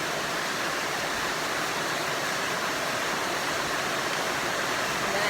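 A steady, even hiss of rose water setting spray runs without a break, a broad spray of noise from start to finish with no voices.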